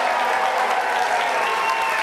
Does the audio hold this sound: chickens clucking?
no